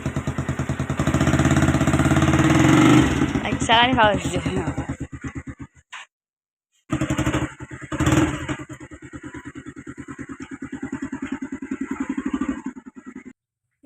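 A motorcycle engine chugs at idle nearby, cuts out briefly, then fires again and keeps running, with people talking over it.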